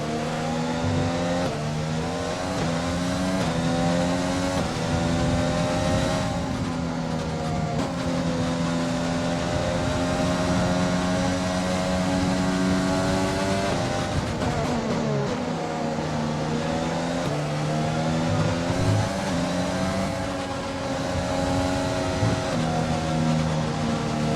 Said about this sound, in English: We need to stay in formation and start bringing the car up to temperature, please.